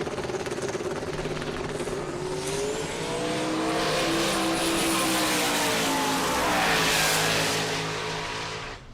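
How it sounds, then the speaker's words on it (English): Two turbocharged LS-based Fox body Mustangs on small tires race down a drag strip. A loud, sustained engine roar with a rising turbo whine swells and passes at a distance, with no voices over it. "Couple of LS-based Fox body Mustangs."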